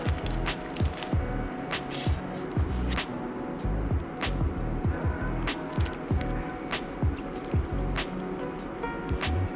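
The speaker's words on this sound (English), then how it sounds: "Now stir it." Glow-in-the-dark slime mixture being stirred in a container, giving repeated wet squishing and dripping sounds at a steady rhythm, close and fairly quiet.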